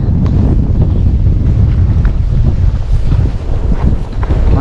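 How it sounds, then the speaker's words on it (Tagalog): Strong wind buffets a small fishing boat out on the water, a loud, constant low roar of gusts battering the microphone with faint waves underneath. "Ay, puro hangin."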